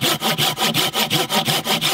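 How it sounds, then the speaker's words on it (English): A handsaw cuts through wood in steady back-and-forth strokes, about ten rasping passes, close and loud with no voices. "Sawing and chopping."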